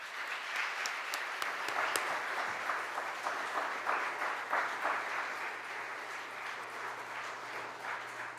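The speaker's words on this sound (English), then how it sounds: "let's welcome him with a generous round of applause" An audience at a Summer Lyceum lecture on yoga science claps steadily to welcome the speaker, a full, even round of applause that holds for the whole stretch at moderate distance.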